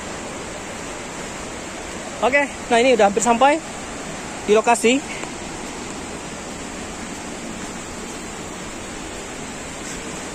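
Rushing water from the Tarak Pipiah waterfall in West Sumatra forms a steady, even roar throughout, with someone speaking briefly over it partway through.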